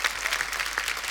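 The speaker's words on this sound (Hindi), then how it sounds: "जोरदार तालियां हमारी परफॉर्मेंस के लिए।" Steady applause from an audience, a dense wash of clapping that holds at an even level throughout.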